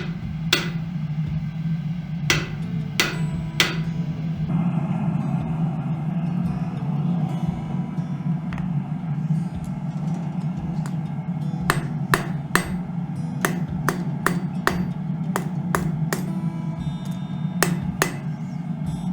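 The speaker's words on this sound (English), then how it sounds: "we've moved to a lighter hammer, a different, little bit less beastie" A blacksmith at Fort Whoop-Up strikes hot metal with a lighter hammer, giving sharp, ringing blows in irregular bursts over a steady low hum, close and loud.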